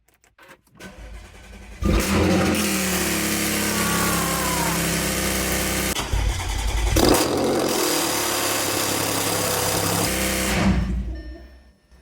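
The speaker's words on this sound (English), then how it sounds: "So we're going to do a cold start." An Audi B8 S4 engine cold starts, cranking and catching, then roars loudly with a harsh, rasping, blatty note from a damaged exhaust that holds steady before cutting off abruptly.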